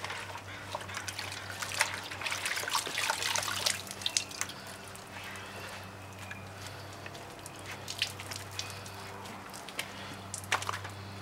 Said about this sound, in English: I'm just going to wring it out.